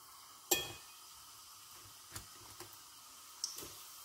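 Leftover kikiam fish balls reheat in a pan, a faint low sizzle broken by a few sharp clicks and taps of a utensil against the pan, one loud tap near the start and softer ones after.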